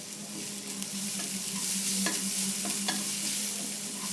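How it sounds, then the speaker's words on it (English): Onions sauté in butter for masala pav: a steady close sizzle runs throughout, broken by sharp spatula scrapes and taps against the pan, with no talking. "You don't have to cook the onions, you just have to saute them a bit"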